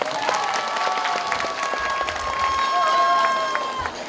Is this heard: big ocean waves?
no